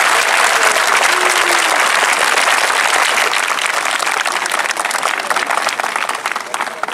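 Sustained audience applause at a student public-speaking event for a teacher-training college group, dense steady clapping from a sizeable crowd filling the whole stretch and easing off slightly toward the end.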